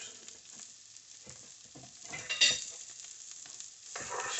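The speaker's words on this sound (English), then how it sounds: "Stir these in, brown them pretty good" Onions and jalapeños stirred into browned chorizo in a pan, a soft steady sizzle with light scraping of a spoon, growing louder toward the end as the mixture is moved around.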